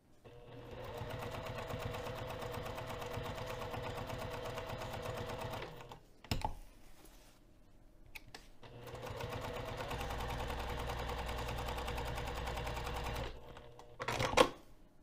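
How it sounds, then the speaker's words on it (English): A sewing machine runs steady topstitching through fabric at a 4 mm stitch length, making two long, even mechanical runs close by, separated by a brief pause and a few clicks. "So I'm going to increase my stitch length to 4 millimeters for this top stitching, and I'm going to sew an eighth of an inch away from the purple"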